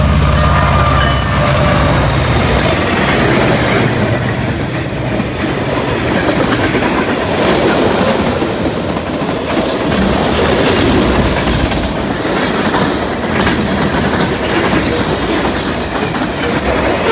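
A Norfolk Southern ACU locomotive-hauled train rolls past close by, a steady loud roar of wheels and rail cars with rhythmic clickety-clack and occasional wheel squeal throughout.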